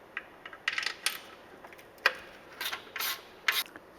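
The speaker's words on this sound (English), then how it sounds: "We'll remove the nuts from these studs and we'll be able to drop these heat shields off." Wrench ratcheting off 10mm nuts from heat shield studs under a Ford Raptor, a run of short metallic clicks and rattles in several bursts, fairly close and moderately quiet.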